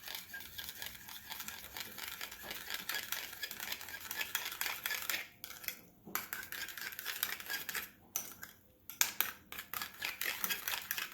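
Three different sauces for a vegan hot pot get mixed in a bowl, giving a close, busy run of utensil clinks and scraping stirs with brief pauses between bursts.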